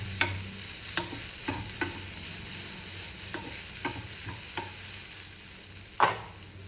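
Crumbled lentils for paruppu usili fry in a pan under a steady sizzle while a spoon scrapes and taps the pan at regular intervals, ending with one louder knock.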